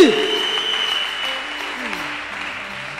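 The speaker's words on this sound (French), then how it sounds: "On acclame le Seigneur Jésus" A church congregation applauds for Jesus: dense clapping fills the room, loud at first and then tapering, with singing or voices carrying underneath.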